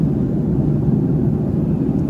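Steady low roar of airplane cabin noise during a long flight departing Houston, a constant close rumbling hum with no talking.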